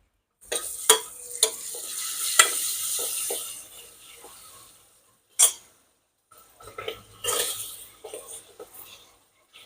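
Peas and ground coriander, cumin and fennel powders frying and sizzling in a pan for a Marathi carrot, potato and pea vegetable dish, with irregular stirring scrapes and short crackling bursts, fairly close and moderately loud, with pauses between.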